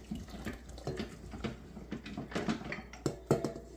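Water poured into a bowl of beef sausage meat mix for hot links, an uneven splashing trickle with wet slaps and squelches, fairly close and moderately loud.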